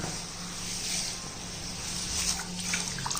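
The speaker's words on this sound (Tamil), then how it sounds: "இப்போ இந்த 1 கிலோ கம்பில் நம்ம தண்ணி ஊற்றிக்கிடுவோம்." Water pours steadily onto a kilogram of raw pearl millet grains in a vessel, a continuous close splashing wash that swells slightly toward the end, with no talking.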